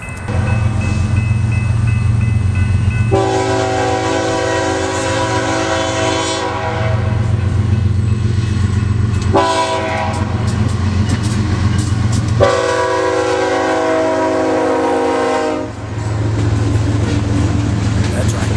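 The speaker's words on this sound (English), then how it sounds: "A big long grain train, also known as an earthworm." A long BNSF grain train rolls past with a BNSF 750 warbonnet locomotive as the second unit, its diesel engines droning loudly and steadily while the horn sounds in several long, close blasts.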